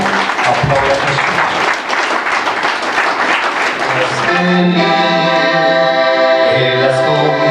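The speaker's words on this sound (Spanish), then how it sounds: "Aplauda a Jesús." An audience at a church anniversary service claps steadily for several seconds, then the applause gives way to voices singing together.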